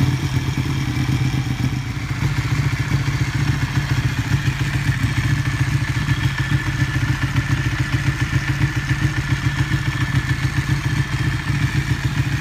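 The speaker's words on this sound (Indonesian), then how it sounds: "Terakhir, Panigale suaranya kayak gini." A Ducati Panigale motorcycle engine idles with a steady, loud, close rumble and a fast, even pulsing throttle beat that runs unbroken throughout, with no voices.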